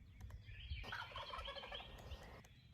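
A wild turkey tom gobbles during a Kentucky turkey hunt, one rolling burst at moderate distance that stands out against quiet woodland background.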